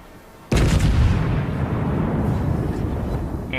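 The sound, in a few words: battleship front guns firing in the video game World of Warships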